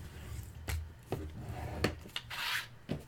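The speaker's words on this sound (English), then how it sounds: "I'm going to flip them over and burnish them" Folded paper pieces for a scrapbook pocket page are burnished by hand, giving soft rubbing swipes broken by several sharp taps and scrapes, close and fairly quiet.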